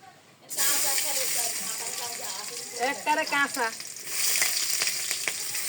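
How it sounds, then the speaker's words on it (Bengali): Chopped garlic and green chilies frying in hot mustard oil over a wood-fired stove, a steady close sizzle that starts abruptly and carries on throughout, with faint voices or tonal sounds partly under it. "সরিষার তেল গরম হলে কুচানো রসুন এবং কাঁচামরিচ দেবো"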